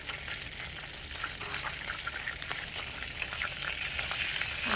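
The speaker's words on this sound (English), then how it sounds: "Now, watch that right real quick. It is gonna go ahead and start browning." Creamy carnivore sauce bubbling and browning in a pan over high heat, a dense steady crackling sizzle with faint scattered pops, close and fairly quiet, no voices.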